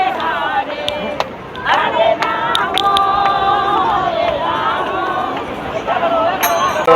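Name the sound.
crowd at the Gangasagar Mela on the seashore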